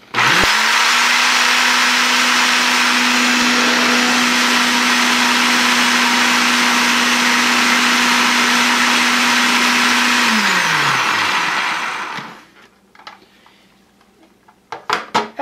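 A blender grinds salsa ingredients with its top off, a loud, steady whir that runs for about ten seconds, then winds down and stops, followed by faint clicks and handling noises.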